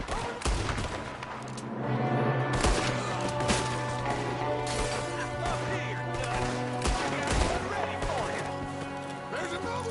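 Gunfire in Red Dead Redemption 2 as a gang shoots it out with men in a building, with repeated sharp rifle and pistol shots cracking across a sustained firefight over music and shouted speech.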